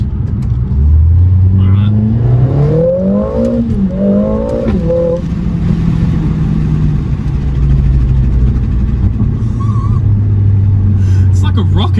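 A 2023 Mercedes-Benz CLA 45S AMG in Sport Plus with the gearbox in manual mode accelerates hard from inside the cabin, its engine note climbing through rising gear pulls with shifts, loud and close, while a person says a word early on.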